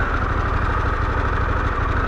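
Steady low engine idle from a Harley-Davidson Pan America motorcycle, a continuous even rumble with a faint pulsing throb, fairly close and constant throughout, no talking.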